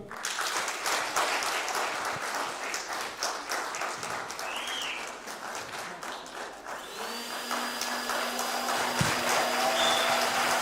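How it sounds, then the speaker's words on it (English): Audience applause at a certificate ceremony, sustained clapping from a crowd with steady intensity, joined later by a faint tonal hum and a few whistle-like tones in the background. "we appreciate a round of applause"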